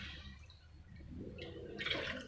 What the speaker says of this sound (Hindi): पानी हम इसमें डालेंगे बेसन का 8 गुना